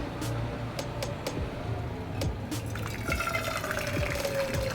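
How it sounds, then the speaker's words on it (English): Water poured into a cooking pot for making porridge in a home kitchen, a steady splashing fill with small drips and clinks, moderately loud and continuous throughout. "So we'll use this cooking pot. Add the water."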